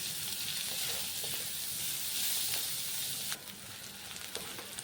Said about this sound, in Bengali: তখন আমি দিয়ে দিচ্ছি কুচনো পেঁয়াজ